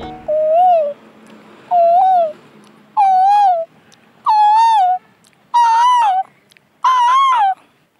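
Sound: man imitating various bird calls

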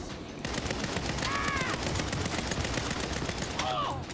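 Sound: rapid gunfire from a gun in Saints Row video game

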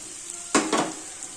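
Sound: onions frying with crushed coriander seeds and garlic

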